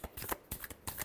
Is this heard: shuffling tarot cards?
yes